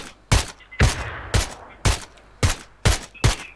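PUBG gunfire: seven sharp, loud shots spaced about half a second apart, each followed by a brief echoing tail.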